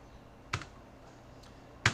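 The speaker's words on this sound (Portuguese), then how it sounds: "Vocês podem dar o Ctrl F no teclado" Two sharp, separate key presses on a computer keyboard, entering the Ctrl F shortcut, close and distinct over a faint room hum.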